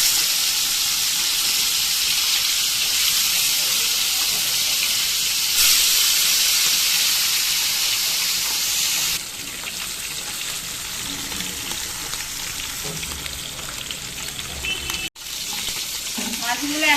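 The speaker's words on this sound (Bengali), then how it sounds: "আমি মাছগুলো ভেজে নিচ্ছি।" Salt-and-turmeric-rubbed fish pieces fry in hot oil with a loud continuous sizzle and hiss that eases partway through, with light clatter near the end.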